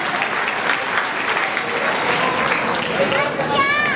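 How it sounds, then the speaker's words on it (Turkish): Applause at a community solidarity night in Damal, Ardahan, a strong, even clapping crowd with voices and children audible underneath, and a whistle-like tone near the end. "kendisine kuvvetli bir alkış alabilir miyiz arkadaşlar?"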